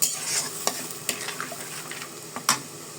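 Chicken sizzles in a pan while being stirred, cooked with white mustard and turmeric for a chui jhal chicken kosha. Crackling frying runs under sharp, intermittent spoon scrapes and clinks, with no voices.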